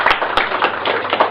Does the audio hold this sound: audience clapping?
yes